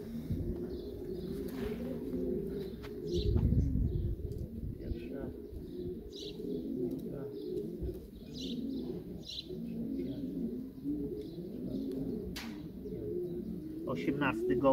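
Racing pigeons coo softly at a loft after returning from a 700 km race from the Netherlands, low repeated cooing and occasional chirps under ongoing conversation, with a brief burst of wing noise.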